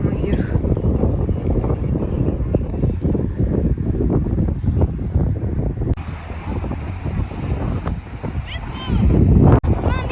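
Heavy, continuous wind on top of a tall sand dune buffets the microphone in loud gusts, with a voice faintly mixed in at moments.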